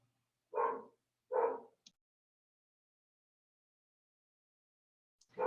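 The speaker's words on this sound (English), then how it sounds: "Someone with a barking dog should mute." A dog barks twice on an online meeting call, two short, faint barks in quick succession followed by near silence.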